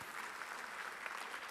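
A church congregation claps together during a Sunday worship service, steady dense applause filling the room throughout at moderate loudness, with no talk over it.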